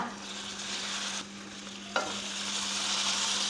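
Chicken pieces frying and being stirred in melted butter in a pan, a steady sizzle with stirring scrapes, a brief quieter dip and a sharp clink near the middle.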